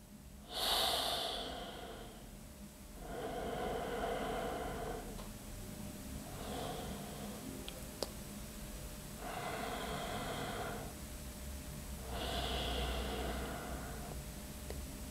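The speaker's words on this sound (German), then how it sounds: "Probier mal in deinen Bauch zu atmen." Slow belly breathing exercise: about five long, deep breaths in a steady rhythm, each a soft airy whoosh lasting over a second and separated by short pauses, close and fairly quiet, with no talking.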